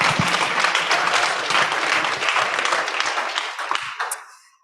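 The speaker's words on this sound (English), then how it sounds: "let's make it super loud, like clapping loudly" An audience at a startup pitch night claps loudly for a speaker taking the stage, a dense burst of many hands that holds steady and then thins and fades out near the end.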